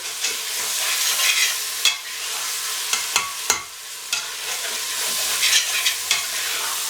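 Masala fries on a high flame while a spoon stirs it, a steady dense sizzle broken by sharp scraping clicks against the pan, with no talking.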